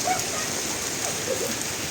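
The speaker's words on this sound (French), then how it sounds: "Il pleut." Steady rain falls on a forest road near Düsseldorf in Germany, a dense, even hiss of drops that holds for the whole two seconds with no voices.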